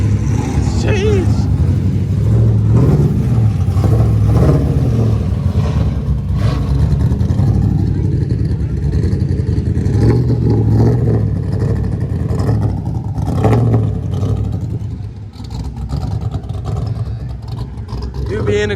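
A boosted Chevrolet SS at a car meet rumbles loud and deep throughout, its engine swelling in revs over a sustained low drone while people talk nearby.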